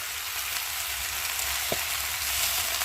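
Data chachchari, a Bengali vegetable-stem dish, sizzles steadily in a pan alone, with no voices, while a single brief scrape of stirring stands out near the middle.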